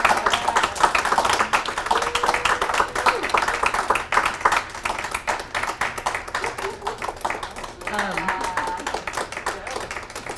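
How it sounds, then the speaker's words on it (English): A crowd at a story slam claps steadily, a dense patter of applause that softens slightly partway through, with faint voices mixed in. "if we could have all of our storytellers come up for one more round of applause"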